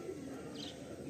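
A pigeon at a loft coos softly in a short, faint murmur against a low background hum, with no voices over it.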